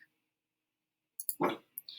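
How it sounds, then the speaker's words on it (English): After a long stretch of silence, a dog gives a single short, clear bark close by, followed by brief faint hissing sounds. "Milo, please don't bark."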